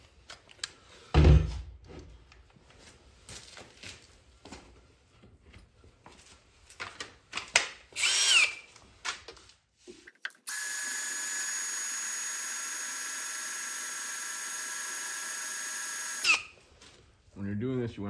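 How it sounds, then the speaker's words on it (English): A power drill whines steadily at high pitch for several seconds, boring without cutting fluid into metal on a Ford Transit close by, after scattered clunks and brief talking. "drill it right in the top so that we can get the oil in"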